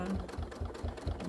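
A domestic sewing machine stitches along a ruler, its quiet rapid mechanical chatter running at an even rhythm close by with no pause in the stitching.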